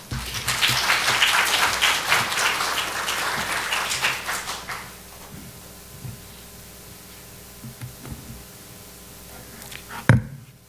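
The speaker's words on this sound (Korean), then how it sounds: "박수로 우리 격려하십시다" A church congregation applauds loudly for about five seconds, then the clapping fades into quiet room noise with a few scattered knocks.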